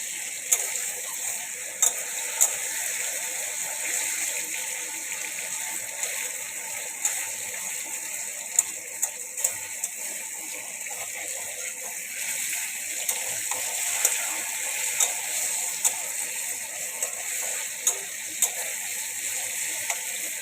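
Diced potatoes frying in a pan for a paneer curry, a steady bright crackle with fine clicking pops running evenly throughout, fairly close and unbroken, with no talking.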